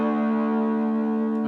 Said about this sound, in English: let the natural sustain of the amp and the distortion bring the chord up